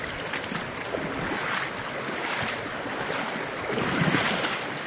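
Fast water rushes steadily through a stream at a digging spot, a close, continuous broadband wash with no talk.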